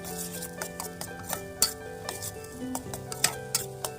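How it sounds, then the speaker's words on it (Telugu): Two beaten eggs frying in a small amount of oil in a pan, with a steady close sizzle and repeated sharp scrapes and taps of a utensil stirring against the pan, no voices. "ఎగ్ కొట్టి వేసేసానండి, 2 ఎగ్స్. ఇది బాగా ఫ్రై అయిపోతుంది."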